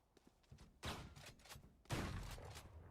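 Two bursts of video game gunfire, the first near the one-second mark and the second just before two seconds, each a rapid volley of sharp shots that trails off, set against quiet.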